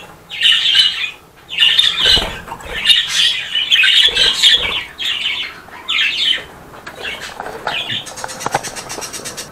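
A pet budgerigar, sick and under treatment, squawks in loud, harsh bursts again and again at close range, with short pauses between the calls and no voices.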